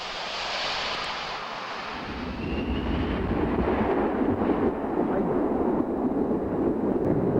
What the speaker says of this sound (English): Air France's first fully operational A320 took off on its maiden flight. First, it had to make a fly-past for the world's press.